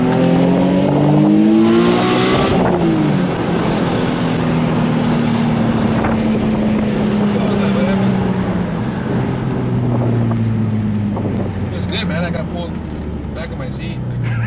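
Turbocharged Nissan 350Z accelerating hard on a full-throttle pull, engine roaring loud and close as the pitch climbs through the revs, then settling into a sustained drone with wind rush.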